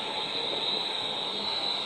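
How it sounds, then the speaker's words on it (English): A London Overground electric train passes at a station, giving a steady, loud rolling rush with a sustained high hiss throughout and no talking. "Here comes the London Overground."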